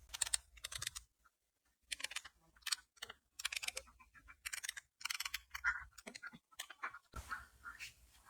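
Typing a message on the keypad of a KaiOS feature phone, a series of quick plastic key clicks in short bursts separated by brief pauses, close and fairly quiet.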